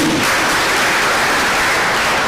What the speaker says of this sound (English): A hand of applause again.